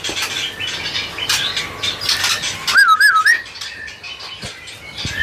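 A songbird at a bird-singing contest delivers loud close whistles and chirps, with a clear rising-falling warbled phrase in the middle, over a busy background of other birds.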